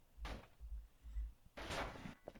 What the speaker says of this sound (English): That sounded like someone wanted to get in through the door.